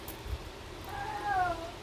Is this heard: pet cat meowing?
yes